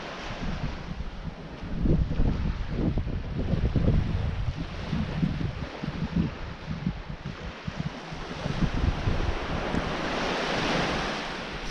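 Ocean surf rolls onto a quiet morning beach at Barn Hill on Australia's 80 Mile Beach, a steady wash of breaking waves with gusty wind buffeting the microphone and no voices.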